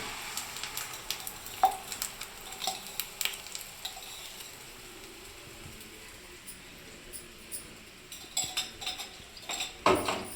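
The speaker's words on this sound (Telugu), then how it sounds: "ఇప్పుడైతే ఆమ్లెట్ పోసుకుంటాను" Beaten egg for an omelette poured into well-heated oil in a pan gives a steady sizzle and fry hiss, with scattered clinks and scrapes of a utensil against the pan and a louder clatter near the end.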